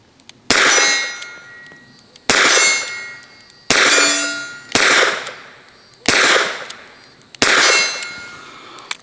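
Ruger LCRX revolver firing .32 ACP rounds: six loud, sharp shots spaced roughly a second and a half apart, each followed by a ringing decay, with no talking.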